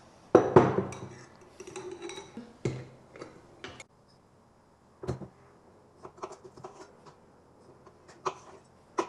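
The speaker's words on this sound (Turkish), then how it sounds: "Şimdi iyice karıştırıyorum." Salad ingredients being stirred in a bowl in a home kitchen, giving irregular clinks and taps of utensils against the dish, with a loud cluster at the start, then sparse scattered knocks and short pauses.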